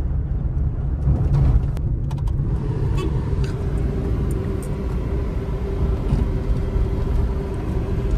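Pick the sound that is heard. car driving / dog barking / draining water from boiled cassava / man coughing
car driving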